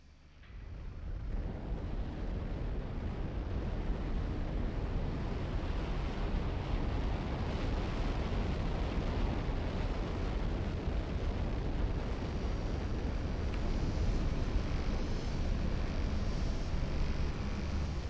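A rocket launching in the Automation Empire video game, heard as a steady, loud roaring rush that swells in after a quiet start and holds for many seconds without a break.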